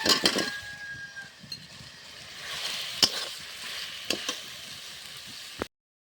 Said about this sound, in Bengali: টমেটোটা আমি একটু ভালোভাবে ভেজে নিচ্ছি